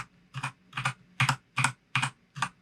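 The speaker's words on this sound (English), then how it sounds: "I'm just typing U" Computer keyboard keys are pressed while editing in Vim, six distinct evenly spaced taps, close and clear with quiet gaps between them.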